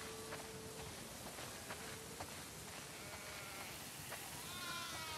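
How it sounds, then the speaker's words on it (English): Sheep bleat in a barn in the video game The Last of Us Part II, several overlapping calls scattered across a few seconds over a quiet ambient background, without speech. "Wow, that's a lot of sheep."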